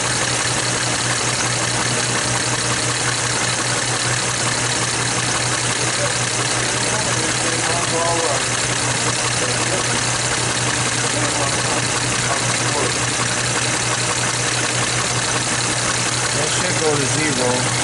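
A 2002 Audi A4 with a mass airflow fault idles steadily throughout, a constant engine hum with faint tapping and muffled sounds over it.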